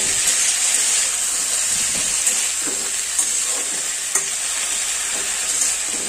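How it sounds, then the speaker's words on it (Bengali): Boiled cowpeas (lobia) being stirred in a pan, a steady close sizzle and hiss running throughout with soft periodic scrapes and clicks of the spoon as the moisture cooks off. "এই জলটা শুকিয়ে নেওয়ার মতন জাস্ট আমাদের একটু নেড়ে চেড়ে নিতে হবে"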